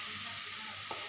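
Spices fry and sizzle in a hot pan as a steady hiss, with a stirring scrape near the end.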